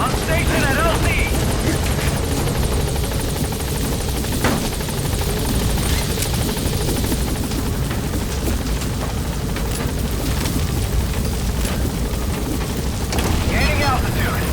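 Helicopter in the video game Metal Gear Solid V: a loud, continuous rotor roar with engine whine fills the whole stretch, steady and close, with game radio chatter and voices talking over it.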